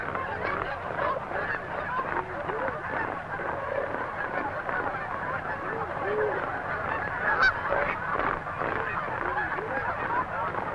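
A flock of dusky geese honking continuously at middle distance, many overlapping calls forming a steady chorus with no speech.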